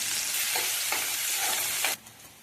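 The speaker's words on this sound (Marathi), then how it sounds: "जिरे मोहरीचा तडका झाल्यानंतर कांदा टाकायचा आहे कांदा व्यवस्थित परतून घ्यायचा आहे" Chopped onion sautéing in a pan over cumin-mustard tempering, a steady broadband sizzle with three or four spatula scrapes before it suddenly drops away near the end, no voices.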